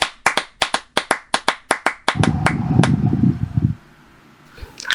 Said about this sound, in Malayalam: എല്ലാവരും വെള്ളപ്പശുവിന് നല്ലൊരു കയ്യടി കൊടുത്തേ.